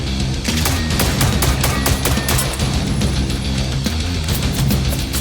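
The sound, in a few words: shotgun fire in video game Generation Zero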